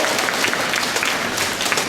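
Sustained applause from a crowd at the 2014 entrance ceremony of Yangdong Middle School, dense and steady clapping filling the hall without a break and with no voices over it.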